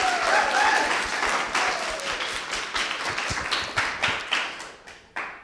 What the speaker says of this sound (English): So maybe a round of applause to yourself.